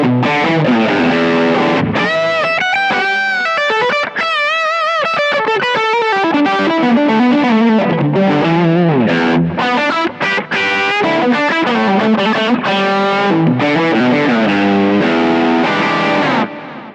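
Electric guitar on a basic lead tone from a Kemper profile, playing a continuous, singing lead line with sustained bent notes and light distortion, loud and up close, no voices.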